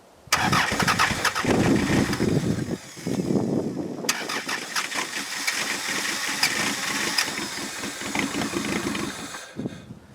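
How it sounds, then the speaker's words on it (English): A cold demolition derby car that has sat unused since mid-September cranks loudly and struggles to start, with a long grinding crank, a brief pause, then more uneven churning and sputtering close by. "Now, because this is a pre-ran demolition derby car, it's just a little cold, so she doesn't want to start."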